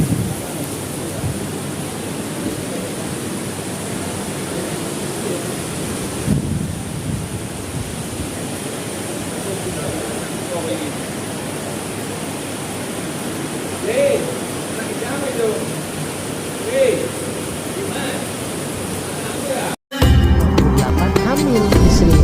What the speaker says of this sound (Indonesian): Alah hujan.